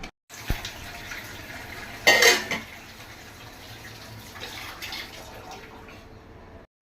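Dishes and utensils are washed at a sink, with running tap water, soft splashes and a brief clatter of pots or cutlery in the middle, all close and without speech.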